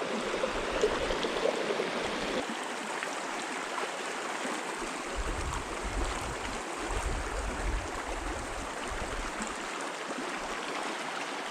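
Water flowing at an overgrown stream crossing on the Colorado Trail, a steady, close rushing and babbling that continues without pause.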